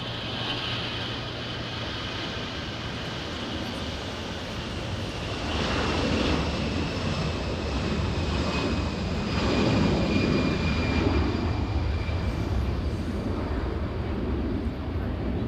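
A Delta airliner bound for San Francisco takes off from LAX, its jet engines swelling from a steady whine into a louder, broad roar that holds at a distance while people talk nearby.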